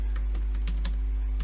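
Someone types on a computer keyboard during a software demo, producing a quick, irregular run of close, crisp key clicks over a constant low electrical hum, with no talk.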